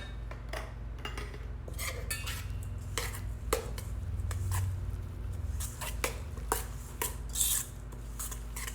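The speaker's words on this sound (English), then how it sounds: "That is our pumpkin banana mashed up all together. Got 2-ish cups of this. Going to mix that together. I should probably use the spoon." A spoon stirs mashed pumpkin and banana together in a bowl for pumpkin muffins, giving a run of soft, close scrapes and light clinks against the bowl over a low steady hum.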